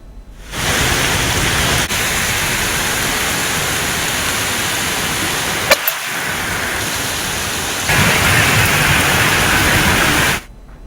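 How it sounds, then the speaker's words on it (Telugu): A heavy downpour in Gooty, Anantapur district, makes a loud, dense, unbroken hiss that starts and stops abruptly, with no distinct thunderclap and no voices. "అనంతపురం జిల్లా గుత్తి మండల వ్యాప్తంగా ఉరుములు, మెరుపులతో కూడిన కుండపోత వర్షం కురిసింది"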